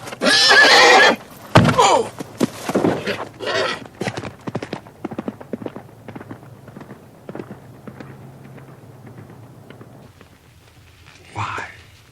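A horse whinnies loudly and shrilly at the start, followed by hoof clatter and scattered thumps, with a shorter whinny rising again near the end.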